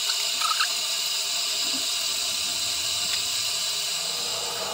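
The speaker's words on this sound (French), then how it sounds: "Je vais rincer les mains." Tap water streams steadily into a bathroom sink while hands are rinsed, a constant close hiss with no voices.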